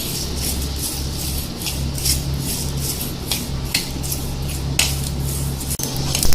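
Whole spices, including black cardamom seeds, bay leaves and mustard seeds, dry-roasting in a pan for mutton balti gosht: steady scraping and stirring with faint ticking crackles over a low hum, no talk.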